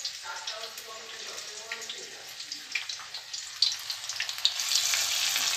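Coriander leaf fritters frying in hot oil, a continuous crackling sizzle with scattered pops that swells louder as more batter goes in, close and steady with no talking.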